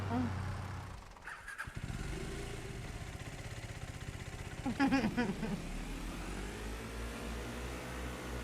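A motorbike engine on a farm idles and putters in the background, rising briefly in a revving burst, with people talking and yard noise around it.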